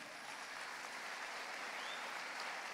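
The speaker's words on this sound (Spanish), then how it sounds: "¿Cuánto le da un aplauso al Señor?" A church congregation applauds together, a dense, even wash of many hands clapping that sounds somewhat distant and holds steady throughout.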